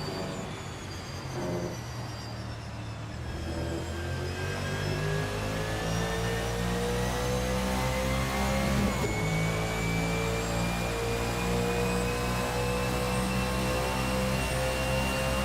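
A 1989 Camaro Z28 IMSA GTO race car roars steadily at high revs on the Daytona road course in a racing video game, its engine pitch climbing and dipping through the lap, loud and continuous.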